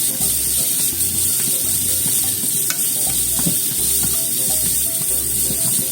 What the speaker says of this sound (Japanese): 人参は炒めます